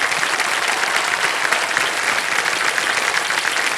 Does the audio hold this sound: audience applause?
yes